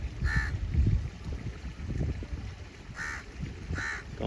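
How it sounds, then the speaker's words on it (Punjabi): A crow caws in short bursts near its nest of hatched chicks, a pair early and another pair near the end, over low rumbling wind and background noise. "ਭੌਂ ਵਿੱਚ ਕਾਂ ਕਾਂ ਕਰਦਾ ਬੈਠਾ"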